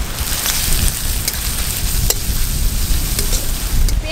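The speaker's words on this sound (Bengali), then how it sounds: "পেঁয়াজ রসুন তো ভালো করে ভাজা ভাজা হয়ে গেছে।" Chopped onion and garlic paste sizzle in hot oil with bay leaf in a village kitchen pan, a loud continuous crackling fry with a few sharp stir clicks.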